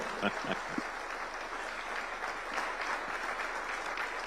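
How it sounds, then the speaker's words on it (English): Audience in a state house hall in Nairobi applauds the President's entrance at a diplomatic briefing, a steady, dense wash of clapping from many hands that carries through the whole stretch. "The Kenyan tradition is that we clap when he's coming in"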